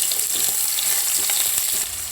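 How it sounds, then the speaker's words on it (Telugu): Carrots frying in a pan for spinach pulao, a steady close hiss and sizzle of hot oil with light stirring scrapes, continuous and unbroken. "క్యారెట్ వేసాను."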